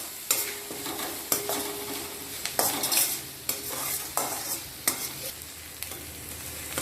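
Onions with garlic and ginger sauté in a pan for a ponnanganni greens cutlet, a soft continuous sizzle broken by regular scrapes and clinks of a spatula stirring every second or so.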